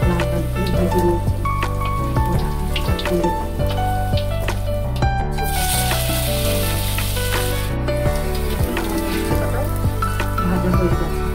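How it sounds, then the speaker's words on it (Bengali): Tilapia fish frying in hot oil, a continuous sizzle that runs under loud background music throughout. "লাল লাল করে ভেজে নিচ্ছি।"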